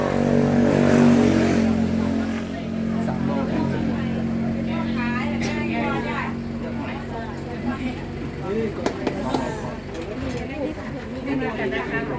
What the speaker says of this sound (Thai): รถเยอะมาก